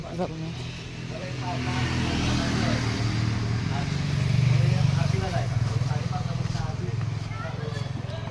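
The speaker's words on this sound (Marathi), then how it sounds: "आता गाडी आलेली आहे थांबा साईडला होऊन दे" A car engine rumbles close by and swells as it passes, with people talking over the noise.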